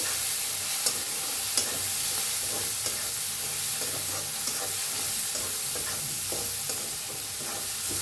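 Ridge gourd spiced with red chilli powder, garam masala and turmeric sizzles and roasts in a pan, a steady close frying hiss broken by repeated soft scrapes and taps of stirring.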